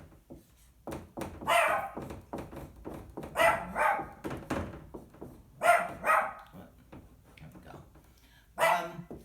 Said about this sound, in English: my dog has decided that she's going to bark a little bit